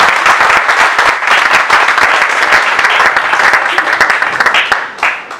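A ceremony audience greets the president with loud sustained applause, dense clapping from a large crowd that holds steady before tapering off at the end.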